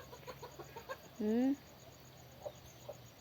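A single short, nasal duck call rises near the middle over quiet background noise, with a few faint clucks and taps around it.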